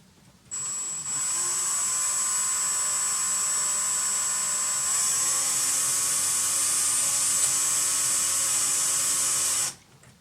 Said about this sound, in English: pull your drill bit out, get the excess out of the way, and start drilling again